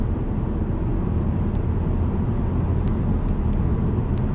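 A VW Golf R mark 7 three-door with a DSG gearbox drives past as a steady broadband road and engine roar, heard continuously from inside or close by with no talk.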